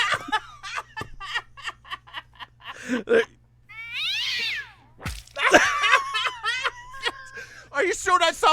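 Cat meows ring out over a talk-show style exchange, with a drawn-out caterwaul near the middle and several shorter meows afterward, fairly close and loud among the voices.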